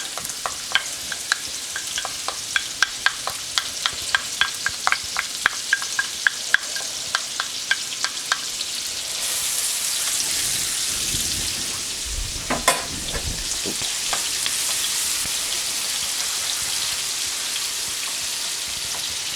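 Steady sizzling of onions and celery sautéing in a hot pan with a broad hiss, an early run of regular clicking stirs, then a brief louder scrape midway; no one speaks.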